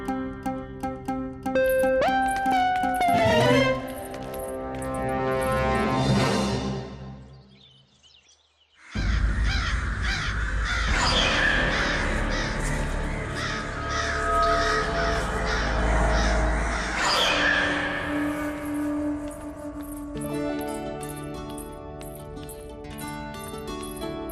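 Crows caw loudly and repeatedly, with harsh overlapping calls close by, then a short pause before the cawing resumes with dense musical and background sound.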